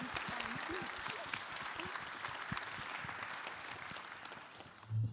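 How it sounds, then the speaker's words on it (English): Applause from a panel audience at a talk on race in modern America, steady clapping filling the room for several seconds with faint voices mixed in. "Kids deserve the applause"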